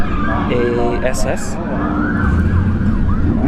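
A police siren wails at a drag racing event at Bradenton Motorsports Park, its rising and falling tone heard over the steady rumble of engines and crowd noise, partly masked, with a commentator talking.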